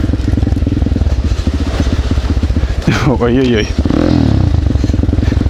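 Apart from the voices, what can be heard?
pit bike motorcycle engine while riding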